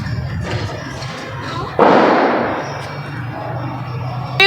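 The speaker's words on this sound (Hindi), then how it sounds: "कोई पटाखे बजा रहा है शदीद यहाँ पे" Firecrackers going off outside, heard as a sudden loud burst that rings out and slowly fades over a couple of seconds, with a sharper crack near the end.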